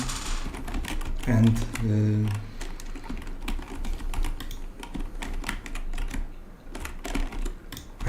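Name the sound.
computer mouse clicking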